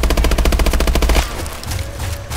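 Rapid automatic gunfire from the Call of Duty: Advanced Warfare video game on PC, a loud sustained burst of shots that cuts off after about a second, leaving quieter rumbling game ambience.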